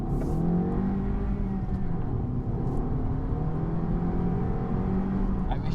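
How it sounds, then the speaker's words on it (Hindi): A Suzuki Swift Sport turbo hybrid engine pulls through a left turn with a steady, smooth hum that rises gradually under acceleration, muted and close as if heard from inside the cabin. "काश इसका इंजन थोड़ा और वोकल होता"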